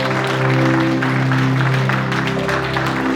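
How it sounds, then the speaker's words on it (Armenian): Applause at a christening celebration as parents greet their baptized children, a burst of clapping from a gathered crowd over steady music. "ծափարությունները բարձր"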